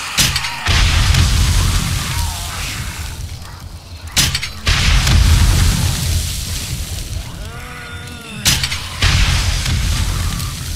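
Loud, booming blasts go off in the game 7 Days to Die, each with a sudden onset and a rumbling, debris-filled tail, with several separate explosions over a noisy action scene.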